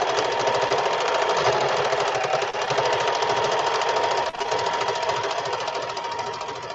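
A sewing machine runs steadily and close, stitching a stabilizing stitch along the edge of a custom-sized traveler's notebook, with a fast, even mechanical chatter that barely pauses throughout.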